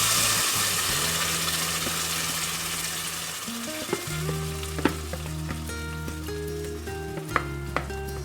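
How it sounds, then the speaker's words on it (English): Mole paste frying in hot oil in a pot, a dense, steady sizzle with scattered spattering pops and scraping clicks, close and alone without talk. "They've warned me that it will sizzle and splatter"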